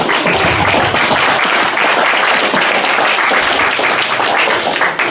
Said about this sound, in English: let's have a round of applause for yourselves and your contributions